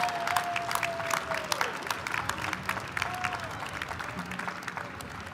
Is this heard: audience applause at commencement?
yes